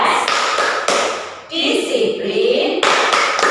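Children clap hands along with a school clapping chant at a kindergarten church service, a few sharp claps at the start and end framing a stretch of group chanting voices.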